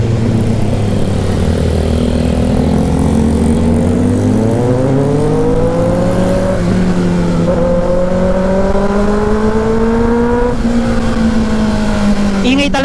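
A loud, droning motorcycle engine with JDM upgrades runs continuously on a night city ride, its pitch rising and falling as it revs up and eases off, up close and steady throughout.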